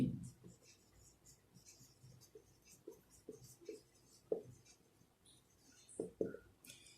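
A definition of an acute triangle being written on a board in a class four maths lesson, soft scratches and taps in an irregular rhythm, with low talk faintly underneath.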